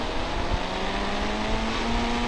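A Yamaha R15 motorbike being ridden, its engine droning steadily with a rising whine and constant road and wind rumble, close and continuous.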